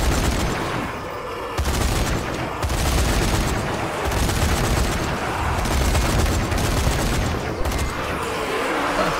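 Gunfire in a video game's Sardinia level: rapid, dense bursts of automatic fire with heavy booms, loud and close, continuing almost without pause.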